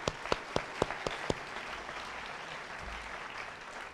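Graduation audience in a school setting claps, opening with several sharp, distinct claps in a quick burst before settling into a softer, sustained patter of applause that continues faintly to the end.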